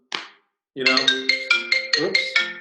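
Phone ringtone for an incoming call chiming in a rapid repeating melodic pattern after a short initial blip, fairly loud and close, with no talk over it.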